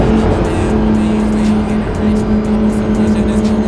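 A purple Porsche GT3 RS drives close by with a loud, steady engine drone and a sustained tonal hum, plus faint background voices.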